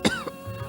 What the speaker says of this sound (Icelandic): En þessi ljóti hósti.